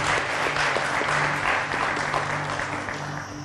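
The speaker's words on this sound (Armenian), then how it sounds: "Ծափարությունները տեղին են" A studio audience at a TV quiz show bursts into steady, dense applause. The clapping stays loud and continuous from start to finish, with no voices over it.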